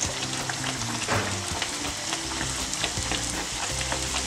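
Çibörek, the Eskişehir-style meat-filled pastry, drops into oil heated to boiling point and fries with a steady, dense crackle and sizzle, close and fairly loud with faint clinks over a low hum.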